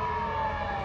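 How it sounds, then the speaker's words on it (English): An ambulance siren sounds in the distance near a park, a steady wailing tone over low traffic rumble, with no talking. "You see, that's an ambulance."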